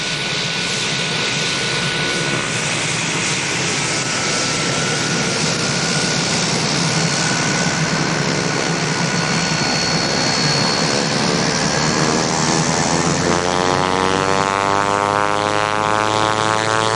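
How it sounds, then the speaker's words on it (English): A Pilatus PC-9A turboprop taxies at Laverton with its engine running, a loud steady propeller and turbine drone with a rising whine, heard close and alone throughout. "We're taxiing at Laverton"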